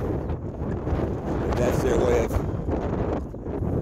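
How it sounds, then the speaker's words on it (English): Heavy wind buffets the microphone in a constant low roar, with a person speaking underneath the rumble. "Man, oh man, is it windy."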